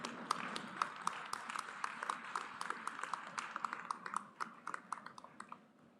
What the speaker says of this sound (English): Huge round of applause for all the Master of Science graduates.